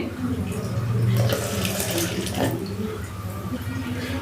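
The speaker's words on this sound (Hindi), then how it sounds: "अब इसमें 1 गिलास पानी ऐड करेंगे" Water from a glass poured into freshly blended falsa berry paste for sharbat, a steady close splashing pour lasting several seconds with no talk over it.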